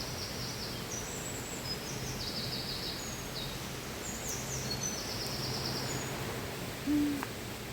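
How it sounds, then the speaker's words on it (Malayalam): Woodland birds call in short chirps and whistles, scattered across the clip over a steady background of rushing stream water beside a tree-lined path, with a brief low hoot near the end. "കിളിയുടെ സൗണ്ട് അല്ലേ?"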